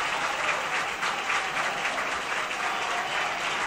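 A council investiture session at the Gandia town hall fills with a steady, dense round of applause for Lorena, many hands clapping evenly throughout without a break.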